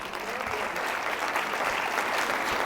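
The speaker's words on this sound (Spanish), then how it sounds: "Dale un aplauso al Señor." Sustained applause from a church congregation, steady and dense throughout at moderate loudness, with no speech over it.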